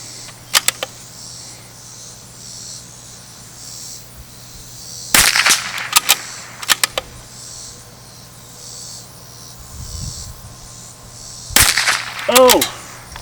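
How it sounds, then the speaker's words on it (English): Bergara B-14R precision rifle with an Elfman Tactical trigger firing sharp reports, a few isolated shots with rapid bolt cycling and ejection clatter between, fairly close over a steady outdoor insect drone. "that bolt slinging back and forth, it's picking rounds up, slinging them out."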